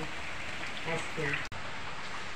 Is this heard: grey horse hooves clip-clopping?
no